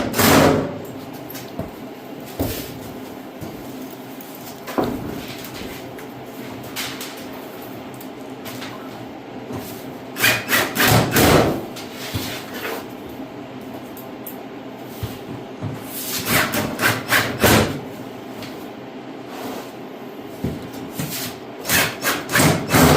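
Screws being driven into a Vevor shop cabinet during assembly, with scattered knocks, rubbing and bursts of rapid clicking or grinding at close range, no talking.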